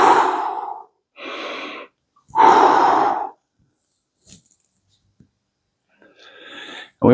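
Breathy exhalations during a curl to press exercise, three strong puffs of breath in the first few seconds, then quiet ticks, then another exhale rising at the end, close and fairly loud.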